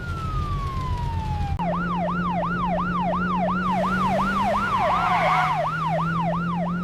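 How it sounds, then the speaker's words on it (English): A loud ambulance siren wails close by, first a falling tone, then a rapid rising-and-falling yelp that repeats over traffic rumble. "Where is this ambulance coming from?"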